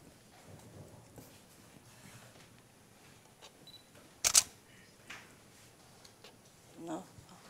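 A camera shutter fires once, a short sharp click in a quiet library photo session lit by an ice light, standing alone against faint room noise with a few soft handling sounds afterward.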